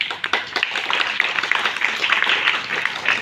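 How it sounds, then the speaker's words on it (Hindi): Students and guests at a Hindi Diwas school celebration at DAV clap in a steady, moderately loud patter of many overlapping hands that keeps going for several seconds. "इसलिए तालियां बजाओ"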